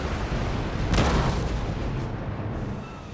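A ship's cannon fires during a naval battle in Napoleon: Total War, a single heavy boom rising out of a constant rumbling wash of battle noise.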